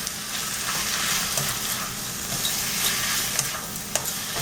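Butter chicken being mixed and cooked in a pan gives a steady sizzle with scraping stir strokes and a few sharp utensil clicks against the pan, close and continuous, with no talking.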